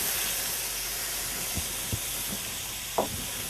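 Catfish drops into a hot pot with ginger, setting off a steady loud hiss of sizzling with a few soft knocks and taps against the pot.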